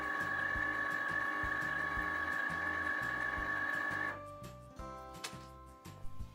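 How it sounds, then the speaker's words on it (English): Cricut Explore Air 2 cutting machine warming up after power-on: a steady whirring tone with rhythmic mechanical ticking, which stops after about four seconds and leaves a few faint clicks and small movements, close by. "So when you turn your Cricut on, it makes this sound."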